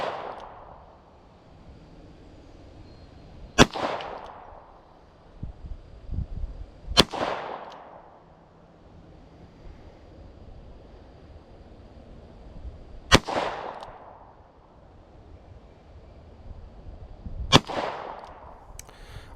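Four sharp, loud revolver shots from a WWII Smith & Wesson Victory .38 at an outdoor range, fired singly with long pauses between, each crack followed by a short decaying echo.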